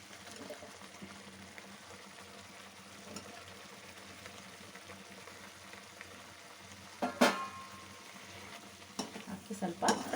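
Fried brinjal and potato sizzle steadily in a pan while being stirred for a brinjal gravy, with a low continuous frying hiss that swells into louder clattering stirs and spatters near the end.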